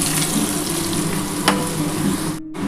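Potato pieces fry in hot oil with a steady, close sizzle and crackle, a single sharp clink partway through, cutting off abruptly just before the end.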